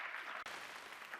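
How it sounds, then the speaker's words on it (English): Audience at a nursing school research symposium applauding its speakers, a dense, steady wash of clapping from a crowd that holds evenly through the moment with a brief dip partway. "I just want to give another round of applause for our tremendous speakers"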